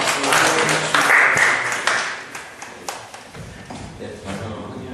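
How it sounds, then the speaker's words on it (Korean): An audience at a university career concert claps after a talk, a burst of applause that swells early and then thins, with talk running through it. "다시 한번 박수"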